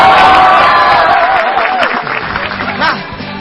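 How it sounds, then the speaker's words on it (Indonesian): Audience at a stand-up comedy battle show gives a loud burst of applause mixed with cheering and shouting, sustained across the whole moment before tapering slightly. "kita minta tepuk tangannya."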